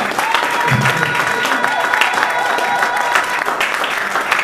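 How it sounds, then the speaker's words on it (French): A church congregation applauding and cheering in praise, with dense, sustained clapping mixed with crowd voices and a few shouts, loud and continuous for the whole stretch. "Acclamons pour la parole du Seigneur."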